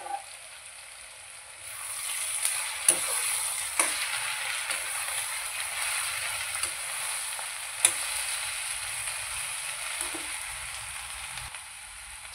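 Paneer chilli sizzles steadily in a pan, a continuous close hiss with occasional scrapes and taps as it is stirred.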